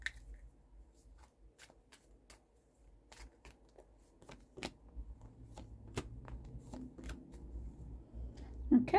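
A deck of fortune cards shuffled by hand, a series of crisp flicks and riffles spaced irregularly across a quiet room, close and fairly soft, with a faint voice-like sound right at the end.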